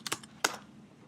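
A few quick keystrokes on a computer keyboard, two close clicks and then a single sharp tap, near and clear with no talking.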